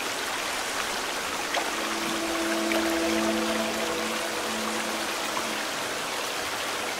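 Flowing water in The Forest survival game, a steady rushing stream with a continuous broad wash, joined midway by a faint, sustained tonal hum, no talk.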